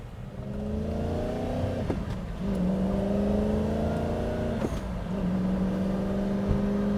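Spyker car engine steadily accelerating through gears, a continuous loud drone with rising engine tones that drop briefly at each shift before climbing again, heard from inside with no talk.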